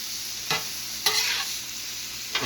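Pepper and onion frying on a steel flat top griddle give a steady close sizzle, broken by a few louder scrapes as a spatula pushes the vegetables around.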